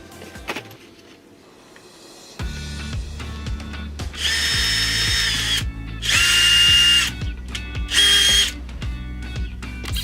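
Battery drill fitted with a rivnut attachment pulling rivnuts tight into a van wall during a conversion build, loud close whirring bursts that rise and strain in pitch, with ratcheting clicks between runs.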